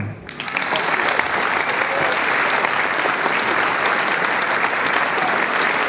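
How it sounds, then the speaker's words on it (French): Sustained applause from a crowd at a New Year's greetings evening, loud and dense throughout after a brief quieter start, with no voices standing out. "Je vais aussi vous demander d'applaudir encore plus fort ceux qui ont organisé cette soirée"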